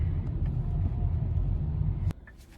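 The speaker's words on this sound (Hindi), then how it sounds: "अभी तक शारजा में फ़िलहाल भी बहुत ज़्यादा ट्रैफिक है" Steady low road-traffic rumble in heavy Sharjah congestion, heard from inside a moving taxi, constant and moderately loud before dropping away abruptly near the end.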